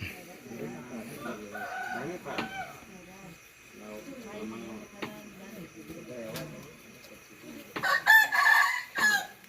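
A rooster crows loudly and close by near the end, breaking into the pre-dawn quiet of a rural village after steady talking fills most of the stretch.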